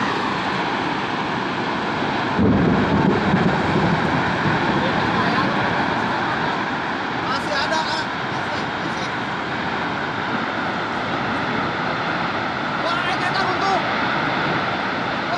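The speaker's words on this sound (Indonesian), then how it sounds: "Angin puting beliung di Kahatek." A tornado whirlwind roars through Kahatek with steady, loud wind noise and a heavier gust near the start, while voices speak under the roar.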